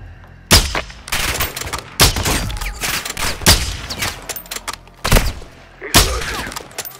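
Loud, close gunfire from the Call of Duty Modern Warfare II campaign arrives as repeated sharp bursts and volleys with heavy impacts, spaced irregularly across the stretch and dominating the mix.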